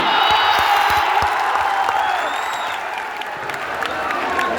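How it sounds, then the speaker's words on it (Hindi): A large crowd at a motivational talk by Khan Sir in Motihari claps loudly, dense and sustained, with cheering and whoops mixed in and some shouted voices, easing slightly toward the end before swelling again. "जोरदार ताली।"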